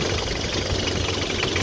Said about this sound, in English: It starts. It appears to start quite well too.